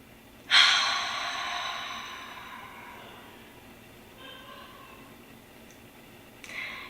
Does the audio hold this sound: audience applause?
no